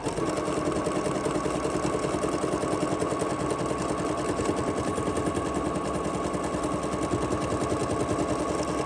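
A BERNINA sewing machine fitted with a double cording foot runs steadily through stitch 442 at default length and width, a dense, continuous mechanical whir and rapid needle chatter sustained at even loudness throughout.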